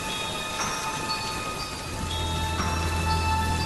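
Steady rain in a Hindi animated horror story, a continuous near hiss of falling water with a low rumble rising under it partway through, no voices.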